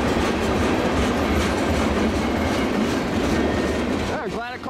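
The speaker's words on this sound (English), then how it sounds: "Yeah, glad I caught this train." An Iowa Northern or Canadian National freight train rumbles past close by, its wheels clattering steadily over the rails, with a brief squeal of wheels near the end.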